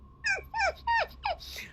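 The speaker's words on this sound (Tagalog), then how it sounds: "May dumarating na aso." Four short, high yelps in quick succession from a dog, each rising then dropping, with a faint fifth call trailing off.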